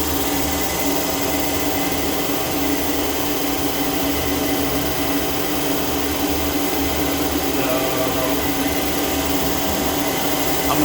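Okamoto IGM 15NC CNC internal grinder with its ID grinding head spindle running, heard close up as a steady, dense machine hum and whine that stays even throughout with no breaks.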